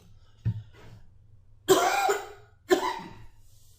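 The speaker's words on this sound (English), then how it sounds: "I feel a cough coming." A faint tap, then two harsh coughs about a second apart, close and loud against a quiet room.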